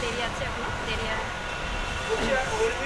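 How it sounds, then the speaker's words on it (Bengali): A passenger train rolls along toward a station at midday, giving off a steady, broadband rumble with faint rattling and hiss that holds at an even level throughout. "আস্তে আস্তে থামছে, কোনটা স্টেশনে চলে এসছে"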